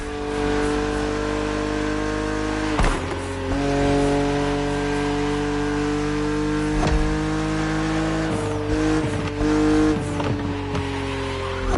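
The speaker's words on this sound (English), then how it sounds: "BMW Z models are what we call roadsters. Two-seaters made for relaxing behind the wheel, appreciating the scenery and the thrill of speed." A BMW Z roadster two-seater racing in The Crew Motorfest, its engine droning loudly and steadily with gear-change dips, revving surges and brief tire squeals, close and without talk.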